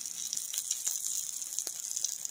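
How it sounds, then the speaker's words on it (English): Garlic frying in hot olive oil over an outdoor fire in a forest, giving a steady bright hiss and crackle with small pops throughout, close and continuous with no talk. "Listen to that sizzle."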